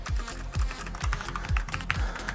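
Typing on a Creative Vanguard K08 RGB mechanical gaming keyboard with Omron switches: close, crisp clacking keystrokes in quick bursts, with a few heavier thocks spaced roughly every half second, no talking.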